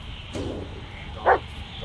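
A dog barks in the horror video game Blair Witch, one faint muffled bark followed by a sharper, louder single bark over a low ambient hum.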